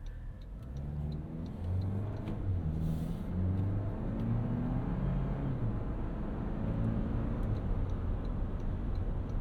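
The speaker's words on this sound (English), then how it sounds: "this four-cylinder doesn't really sound like anything. It's a little bit buzzy, it's a little grainy at the higher RPMs." From inside a 2024 Toyota Land Cruiser J250 First Edition on the highway, its four-cylinder engine gives a faint, steady low hum under constant road and wind noise.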